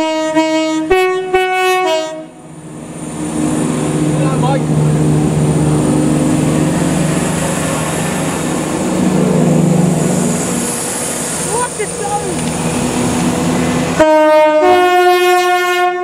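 A Class 170 train sounds two loud horn blasts at Stowmarket station, one at the start and another near the end, with a steady rumble of rolling stock and engine noise filling the stretch in between.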